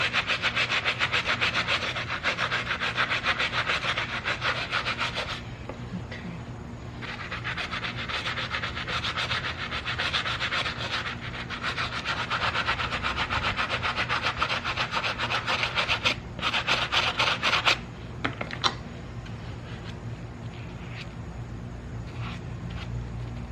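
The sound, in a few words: scrubbing cheer uniform fabric by hand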